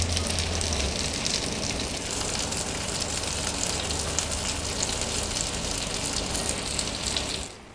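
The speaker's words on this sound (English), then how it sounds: "And look at that, just sizzling away in the oven." A bacon bomb sizzling in the oven, a dense, even crackle and hiss that holds steady for several seconds before cutting off abruptly, heard close with no voices.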